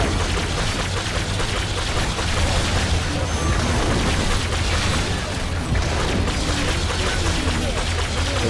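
Repeated booms and blasts as bombers blow up barricades in the video game Orcs Must Die 2, dense and continuous over a busy battle din throughout.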